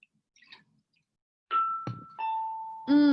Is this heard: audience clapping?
no